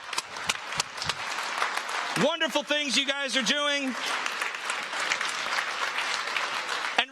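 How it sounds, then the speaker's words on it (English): Steady audience applause fills the room at a startup pitch competition in Finland, with a voice speaking briefly over the clapping partway through. "Round of applause to all of our presenters today."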